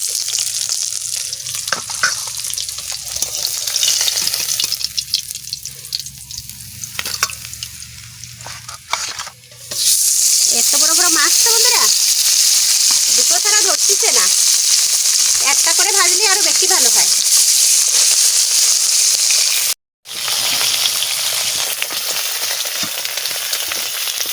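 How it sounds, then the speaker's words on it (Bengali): Tilapia fish pieces frying in hot oil, a loud, dense crackling sizzle close up, with spatter and a brief break partway through; a voice speaks over the frying in places. "মাছ ভাজা কমপ্লিট"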